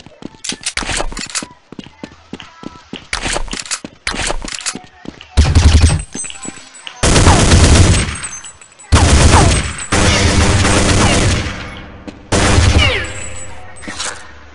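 Counter-Strike 1.6 gunfire: loud, close bursts of automatic shots in several sustained volleys with brief gaps, amid game noise and scattered sharper clicks.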